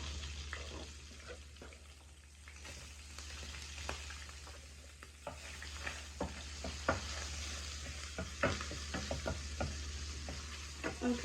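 Chorizo frying in a pan, a steady close sizzle with scattered crackles and pops growing busier toward the end, with no talking.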